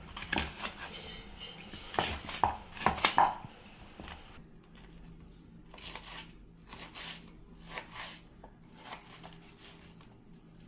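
A knife roughly chops onions for grinding into a bitter gourd pickle paste, with a quick burst of sharp, close cuts on a board followed by quieter, scattered taps.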